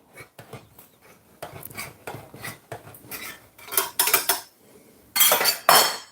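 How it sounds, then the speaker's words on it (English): A knife cutting open a metal tuna tin, with a series of sharp scraping, clanking metal strokes in irregular bursts, growing louder toward the end. "I know how to cut it with a knife"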